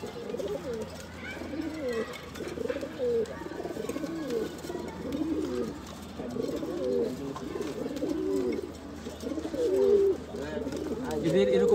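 Pigeons coo repeatedly and scuffle close by in a pairing cage, where a male and female refuse to pair and fight, their throaty calls overlapping steadily throughout.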